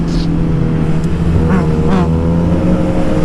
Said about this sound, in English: Let's see you ride some wheelies.